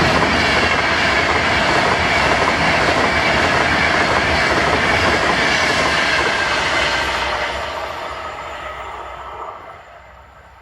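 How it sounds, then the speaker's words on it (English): A Virgin Trains express from London Euston to Glasgow Central roars past at Carluke with loud, sustained rail noise and clattering wheels, then fades as it moves away. "this was 9S47, the 12:53 Virgin Train service to Glasgow Central from London Euston."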